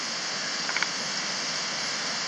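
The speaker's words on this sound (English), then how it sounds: "You can see here we have very nice waterfalls flowing over the green moss." Small waterfalls pour over green moss along a nameless runoff stream on a Cape Breton hike, giving a steady broad rushing hiss with a couple of faint brief knocks partway through.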